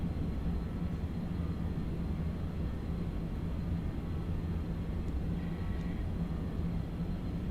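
Steady engine and airflow drone of a BAe 146 airliner on a manual landing approach in the X-Plane 11 flight simulator, a continuous even hum with no talk.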